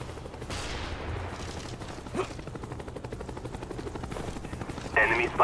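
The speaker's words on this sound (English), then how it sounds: "Friendly Cobra inbound." Cobra attack helicopter flying overhead in a multiplayer shooter game, its rotor thumping steadily in a continuous chop, with bursts of gunfire crackling near the end.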